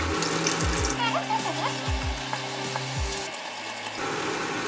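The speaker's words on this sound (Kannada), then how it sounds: "ಪುಳಿತ ನೀರು ಪಾಡ್ದ" Tamarind water poured into a cooking pan for papaya gravy, a steady liquid splash and trickle with a few clinks of utensils, close and fairly loud, with no talking.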